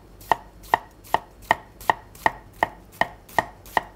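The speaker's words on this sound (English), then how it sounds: "And then you just gently start dicing." A knife dices an onion on a cutting board in ten crisp, evenly spaced chops, roughly two and a half per second, close and clean with a quiet background and no talking.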